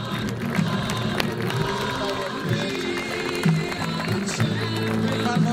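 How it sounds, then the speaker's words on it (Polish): Crowd applauding and cheering at the finals of a tractor pulling competition in Niepruszewo, Poland, a steady wash of clapping under an announcer's voice. "Zasłużone oklaski"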